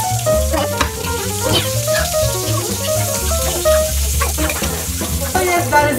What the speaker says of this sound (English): So, let's go and fry it.